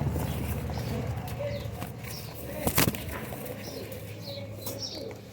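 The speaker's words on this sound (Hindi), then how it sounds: "ये वो कबूतर है" Rampuri Kalpotiye pigeons coo softly in a loft, with a brief loud burst of wing flapping near the middle and light chirps scattered throughout, close but fairly quiet.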